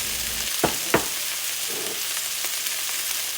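Little diced potatoes sizzle and fry in a pan with sage and rosemary, a steady hiss running throughout. A couple of soft clunks from stirring or the pan sound early on.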